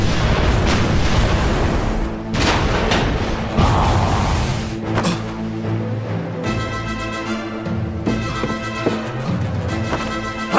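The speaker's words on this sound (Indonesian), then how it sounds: "Meriam! Tembak!" Heavy booming blasts of cannon fire ring out repeatedly amid a dense, chaotic battle din, loud and close throughout.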